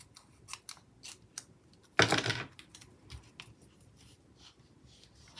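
Scissors trimming paper for a Happy Planner spread, a short run of crisp snipping cuts, near and fairly quiet, surrounded by light tapping and handling sounds.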